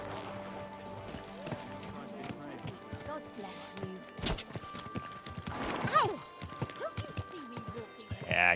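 Horse hooves clip-clop at a steady walking pace in Kingdom Come: Deliverance 2, moderately close, with a brief whinny partway through and someone talking over much of it.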